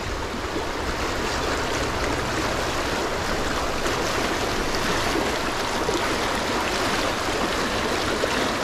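Fast white water rushes over rocks in a trout stream, a loud, steady, close broadband roar that fills the whole stretch without pause or talk.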